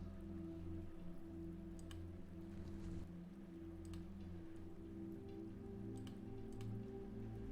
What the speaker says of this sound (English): It's raining today. You'll get very wet,